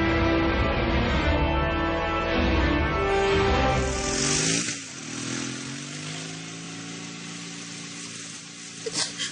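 A motorcycle engine drones loudly nearby, its pitch sliding as it slows, then settles into a lower, quieter idle as the bike pulls in and stops.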